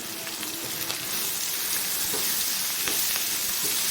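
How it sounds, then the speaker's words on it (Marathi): Coriander leaves sizzle and crackle in a hot Marathi-style tempering on a high gas flame, a steady close hiss of frying oil with a few brief stirring clicks, no voices. "आता नेहमीप्रमाणे फोडणीमध्ये मी कोथिंबीर टाकून घेतलेली आहे"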